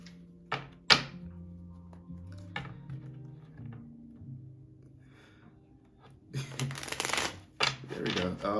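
Tarot cards are shuffled in quick riffling bursts between soft thumps and taps, with a longer flurry of shuffling near the end; someone talks quietly in between.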